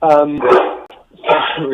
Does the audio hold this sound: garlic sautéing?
no